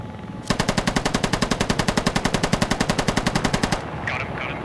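A helicopter-mounted machine gun in the video game Squad fires one sustained, rapid burst of evenly spaced, loud shots for about three seconds, then cuts off.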